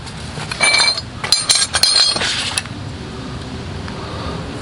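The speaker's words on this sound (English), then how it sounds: "In the toolkit, some random spanners, tire spoon" Spanners and other hand tools from a 1959 AJS motorcycle toolkit clink and jangle in a few bright metallic bursts of handling, close up, then settle into a quiet background.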